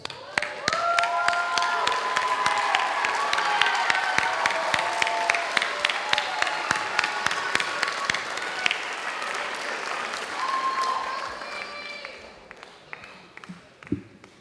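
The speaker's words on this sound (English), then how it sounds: "I'm going to ask all of the graduates to stand up and applaud yourselves." Graduates at a summer graduation ceremony stand and applaud themselves, producing sustained dense clapping from a large crowd that tapers off toward the end into a few scattered claps.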